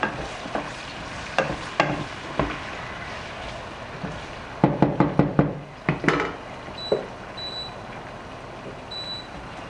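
Spoon or spatula scraping and clacking in a pan while scallops and other seafood are stirred, with a gentle sizzle underneath and a quick run of knocks in the middle, close and fairly loud.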